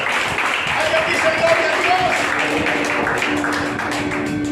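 A church congregation applauding God during a sermon, a steady patter of clapping with voices talking and calling out over it and a sustained tone in the background.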